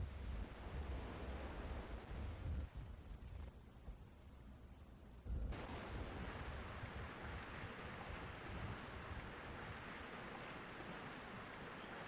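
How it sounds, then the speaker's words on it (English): Loud waterfalls roar in a Vexx video game prototype build, a broad steady rushing wash that briefly dips quieter for a couple of seconds before surging back, with no voices. "The waterfalls are loud."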